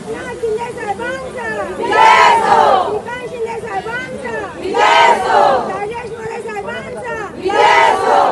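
Party workers celebrate an election win with loud crowd cheering and rhythmic chanted shouts rising in repeated surges, about three big swells, over a constant babble of voices close by.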